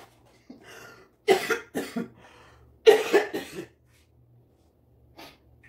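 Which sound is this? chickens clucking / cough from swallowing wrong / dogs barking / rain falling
cough from swallowing wrong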